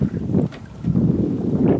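Gusty wind buffets the microphone in low, rumbling bursts, dropping briefly before surging again, with an open-water feel, on a sailboat during a regatta on Lake Garda, Italy.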